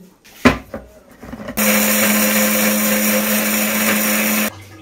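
Near the start come a few clattering knocks, then an electric kitchen grinder dry-grinds mustard seeds in a loud, steady whirring roar for about three seconds before it stops abruptly.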